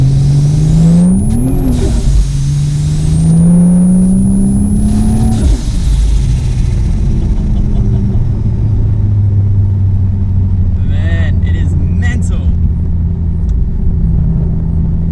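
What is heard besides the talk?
turbocharged car accelerating hard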